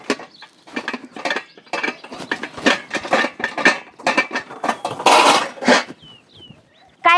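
Metal pots and pans clatter and clank in a busy home kitchen, a run of sharp, close, irregular knocks and rattles with short pauses between them.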